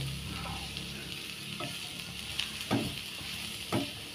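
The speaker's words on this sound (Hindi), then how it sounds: "आतां पियावा आनी मशरुमा बरो करून मिक्स करपा जाय।" Mushrooms and onion fry in a pan with a steady, faint background sizzle, while a few soft scraping stirs come through at intervals; no talking is heard.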